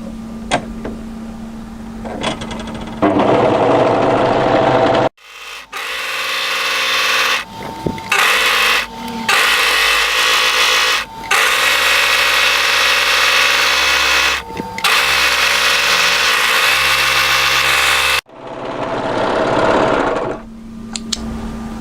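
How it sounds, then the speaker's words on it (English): An overlocker runs along the raw edge of a hooded jacket front in long, loud, steady bursts, pausing briefly several times between runs, with quieter handling and motor whir before and after. "I'm going to overlock the raw edge of the front all the way up around the hood and then back to the other side"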